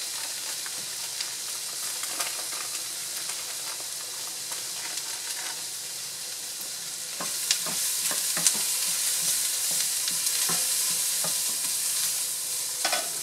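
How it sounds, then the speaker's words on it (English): Curry powder and other ingredients sizzle steadily in a hot pan with occasional scraping and stirring clatter, close up and without talk. "I want to go ahead and saute that with the ingredients."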